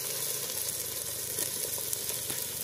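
Chopped tomatoes tumble into a hot pan of chicken gravy base, setting off a steady, close sizzle that crackles evenly throughout with no voices.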